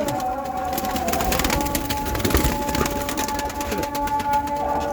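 Young pigeons of this year's brood coo in a Turkish loft, a steady murmur of low cooing close by over a busy, noisy background.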